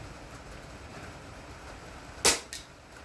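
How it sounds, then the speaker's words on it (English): An airgun fires a single sharp crack at an outdoor range in bad weather, followed a moment later by a fainter impact knock. A steady wind-like background hiss runs under it. "So I'm just going to ping a shot now."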